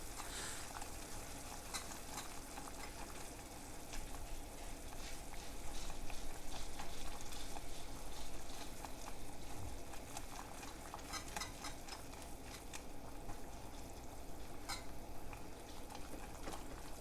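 Cornmeal is whisked into simmering water for creamy polenta, giving a steady, soft bubbling and scraping hiss in a pot throughout, faint and continuous without pauses.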